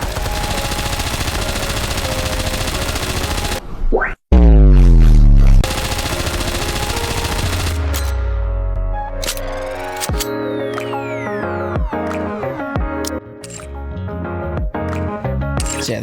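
Rapid automatic gunfire rattles from Maid Mast's shooting pose in the mobile shooter NIKKE, a dense sustained burst that cuts off abruptly, followed by a loud thump and sparkly chiming effects over music.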